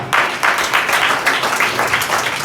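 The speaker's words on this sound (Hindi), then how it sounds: "ओ वाह, जोरदार तालियां।" Loud applause from a church congregation at a Palm Sunday service, arriving in rhythmic bursts of clapping that swell and fade every half second or so, close and dense, with no voices over it.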